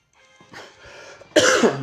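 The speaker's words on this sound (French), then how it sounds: "je tousse un peu" A person coughs a few times close up, with soft throat sounds first and then one sharp, loud cough at the end. No one speaks.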